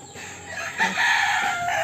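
A rooster crows loudly and close by over clucking hens in a backyard chicken flock in the Philippines, one long call rising after a short cluck.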